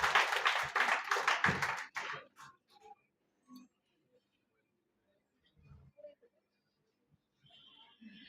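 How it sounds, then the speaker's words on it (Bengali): Audience applause breaks out loudly at an award certificate ceremony for a farm company's Khulna branch divisional manager, a dense burst of clapping lasting about two seconds before dying into scattered taps and near silence. "সকলেই স্যারের জন্য জোরে একটা করতালি।"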